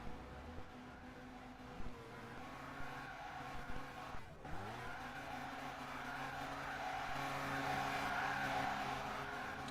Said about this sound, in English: He's doing donuts.